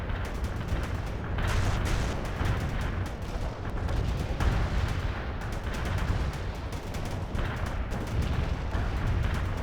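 A Bradley fighting vehicle returns fire in a World in Conflict battle during a Russian invasion of Seattle, with dense, continuous booming and rapid gunfire in a loud, sustained barrage.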